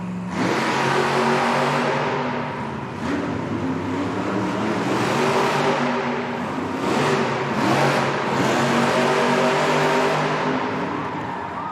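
Monster trucks in a Monster Jam arena event in Lexington, Kentucky, loudly revving their engines while racing, a dense continuous roar with rising and falling surges and no talk over it.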